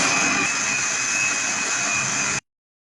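Blender grinding potato and carrot into juice, a steady high whirring motor whine held at constant pitch for about two seconds before cutting off abruptly into silence.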